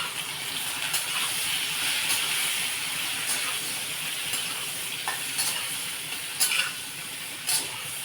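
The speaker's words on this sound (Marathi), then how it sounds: "आता याला छान असं परतून द्यायचं भेंडीला व्यवस्थित झाकण ठेवायचं नाही आहे" Okra being stir-fried in an uncovered pan with cumin and turmeric, a steady hissing sizzle with periodic scrapes and clinks of a spatula turning the pieces.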